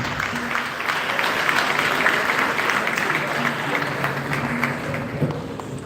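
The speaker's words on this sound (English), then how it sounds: "Another round of applause for Ms." Steady applause from an audience at a Liberian government campaign launch event, sustained and fairly loud throughout, with a voice speaking faintly underneath.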